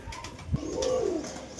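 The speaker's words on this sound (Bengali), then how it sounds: "এটা হচ্ছে মাদি কবুতর" A female pigeon gives one clear, close, rolling coo after a soft thump, with no other sounds.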